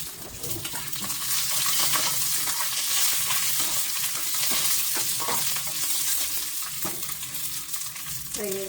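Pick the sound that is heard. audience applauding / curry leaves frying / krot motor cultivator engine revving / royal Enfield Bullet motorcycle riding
curry leaves frying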